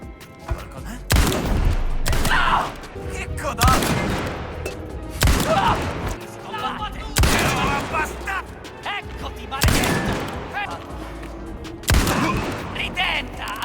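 Pistol shots in a video game crack out in repeated bursts, loud and close, each followed by a short ringing tail, with a spoken voice in between.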